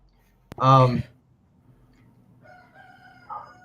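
A rooster crows once loudly near the start, a strained drawn-out call, followed by quieter background sounds and a faint second call near the end.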